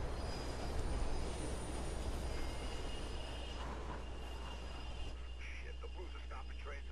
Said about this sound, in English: the blues are stopping trains in the tunnels now